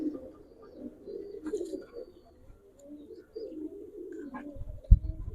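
Giribaz pigeons coo softly in a loft, low murmuring calls repeating through the clip with a brief louder knock or bump near the end.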